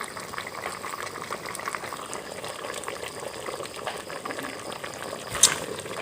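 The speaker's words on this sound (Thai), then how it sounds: "ต้มแกงบะเขือก่อนเดี๋ยวก็เอาปลาใส่ที่หลังครับ" Thai spicy curry with eggplant bubbling in a pot before catfish goes in, a steady close simmering hiss with soft bubbling throughout and one brief sharp clink near the end.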